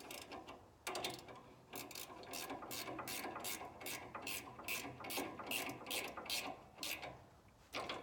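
Rapid ratchet clicking in repeated bursts as sway bar link bolts are tightened on an aftermarket TXTR Customs front sway bar link install, loud and close with brief pauses between strokes.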